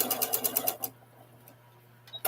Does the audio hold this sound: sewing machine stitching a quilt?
yes